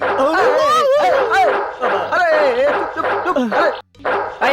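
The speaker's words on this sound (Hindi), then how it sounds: "बड़ा खतरनाक कुत्ता जी। अभी भी भौंक रहा है।" A dangerous dog barks repeatedly in loud bursts close by, with people talking and shouting over and between the barks in a Hindi film scene.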